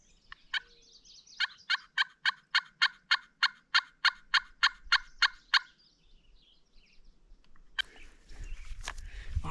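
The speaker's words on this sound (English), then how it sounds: "call a couple times and see if they'll gobble" A Merriam's wild turkey on Utah public land during a spring hunt: a long run of about fifteen evenly spaced, sharp notes rings out clearly, then a rougher, louder burst follows over rising outdoor noise.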